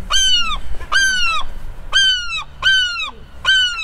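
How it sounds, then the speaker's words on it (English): A crow caws loudly and close by in a coastal castle setting with mountains behind, giving five harsh, evenly spaced calls, each with a short gap before the next. "Oh, a noisy thing, aren't you?"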